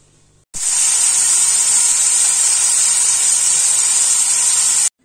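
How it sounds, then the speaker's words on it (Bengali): Potatoes hitting hot oil in a wok, a loud steady sizzling hiss that starts abruptly, holds evenly for several seconds, then cuts off. "এবারে আলুটা ভেজে নেব।"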